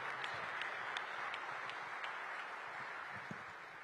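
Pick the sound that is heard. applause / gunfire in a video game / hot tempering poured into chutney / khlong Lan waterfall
applause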